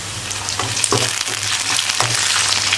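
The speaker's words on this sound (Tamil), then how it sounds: "இப்போ நம்ம கட் பண்ணி வச்சுக்கிற வெங்காயம் போட்டுக்கலாம்" Chopped onions sizzle steadily in hot oil in a pan for Tamil vadakari, with mustard seeds, cinnamon, cloves and fennel already in the oil. The frying is close and continuous, with no talking.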